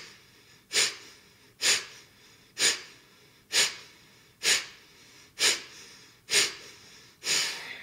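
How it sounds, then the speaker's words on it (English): Kapalabhati breathing in a yoga session: eight forceful, evenly spaced exhales puff sharply through the nose, each a close, breathy burst followed by a short quiet gap, with no talking. "You can give a couple of Kapalabhati exhales through the nose"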